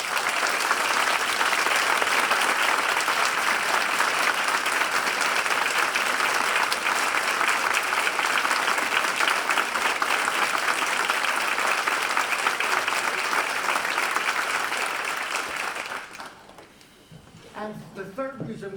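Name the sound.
audience applause at a nursing convocation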